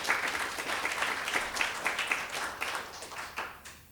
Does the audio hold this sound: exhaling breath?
no